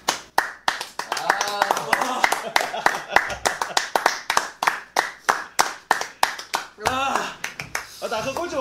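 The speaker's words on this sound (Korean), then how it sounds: "박수 한번 쳐주죠." A small group claps steadily and briskly, sharp claps repeating for several seconds, with voices and laughter breaking in near the end.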